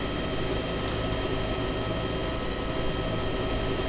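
A helicopter flies in the video game Arma 2, its engine and rotors making a continuous, even roar with a steady whine and no breaks.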